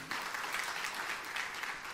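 Church congregation applauding steadily during a sermon, a dense wash of many hands clapping at even loudness throughout, fairly close and continuous without a break.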